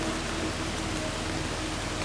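Heavy rain falls in a Costa Rican rainforest near La Fortuna, a dense, even hiss of downpour with no breaks or voices.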